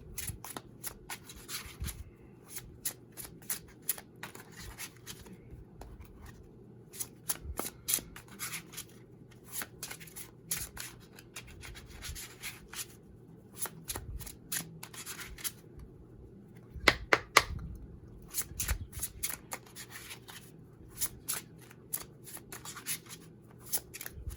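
Oracle card deck with good cardstock being shuffled by hand, a long run of crisp riffling and sliding card bursts with brief pauses, close and fairly quiet, with no talking.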